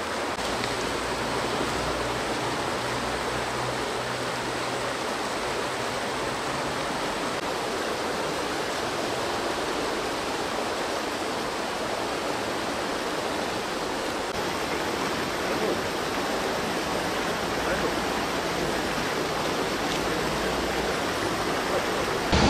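Steady, continuous rush of flowing water from İluh Creek, a polluted urban stream in a Turkish city, filling the whole stretch evenly and fairly close with no voices over it.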